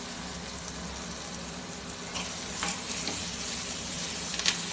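A spiced potato dish is stirred in a frying pan, with a constant sizzle and occasional louder scraping and clattering strokes as the spoon moves through it.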